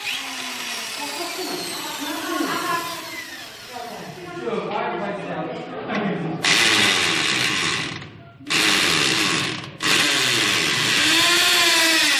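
A loud power drill whirs in long bursts with short pauses between them, and voices talk over the start.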